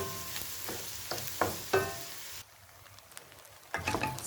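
Rice added to a hot pan for Cantonese-style fried rice, a steady crackling sizzle with scraping stirs and clatters, dropping briefly quieter before the sizzling and stirring pick up again, no talking.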